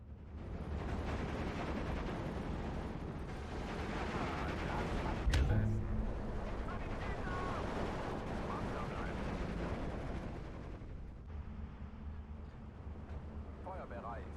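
Artillery and gunfire in Steel Division 2 rumble continuously beneath German-speaking voices, with one sharp, heavy gun blast standing out midway.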